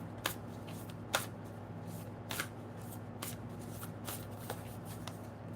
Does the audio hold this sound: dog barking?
no